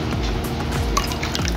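Peanut oil is poured into a bowl as part of besan papdi dough, a short, continuous liquid pour with a few drips, close and clear.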